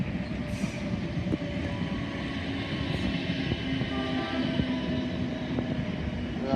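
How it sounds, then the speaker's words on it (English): A South Western Railway Class 455 train arriving at Wimbledon station rumbles steadily on the rails with occasional clanks and faint squeals, fairly distant and without voices. "Arriving in now is the 1112 South Western Railway service to Richmond"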